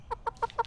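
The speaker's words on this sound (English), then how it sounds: "A chicken, that's right." A chicken clucking, four quick evenly spaced clucks, close and clear with nothing else audible.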